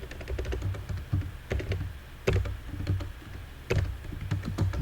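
Someone types on a computer keyboard while writing HTML code, producing a steady stream of close, quick key clicks with a few heavier thumps like the space or enter key.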